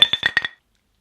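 Glasses of Weihenstephaner Hefe Weissbier clink together in a three-way toast, making about five quick, bright chinks in half a second, close by, followed by silence.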